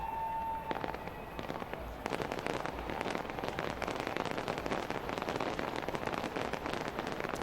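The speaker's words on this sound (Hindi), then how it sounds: "किस तरह से शानदार आतिशबाजी का जो प्रोग्राम हर साल किया जाता है" A New Year fireworks display in Auckland, heard as a constant dense crackle and patter of bursts from a distance. It sounds almost like heavy rain and carries on without a break, with no voices.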